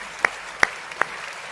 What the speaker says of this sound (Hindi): पीछे से ऊपर हाथ खड़े करके ताली बजा रहा और कह रहा दोबारा।